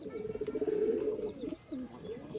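A Rajshahi Giribaz pigeon coos nearby in a low, pulsing, warbling run, followed by shorter rising coos, over light background hiss.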